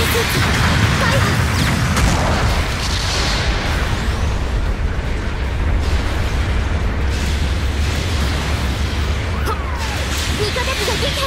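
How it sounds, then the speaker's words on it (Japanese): Support artillery bombardment in Gundam Battle Operation 2 on PS4, a dense, continuous rumble of explosions and booms rolling through the whole stretch, loud and steady with no clear breaks. "後方部隊からの支援砲撃が来ます。"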